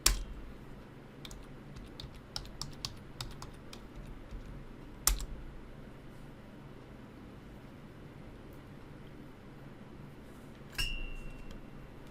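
Fingers tap a password into a computer keyboard, a sparse string of soft close key clicks over a faint room hum, with a few sharper clacks and no speech.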